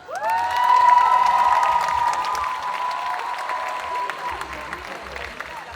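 A cosplay contest crowd at Japan Addict Z 2023 breaks into loud applause for a makeup award winner, dense clapping with sustained whistling cheers on top, holding strong before easing slightly.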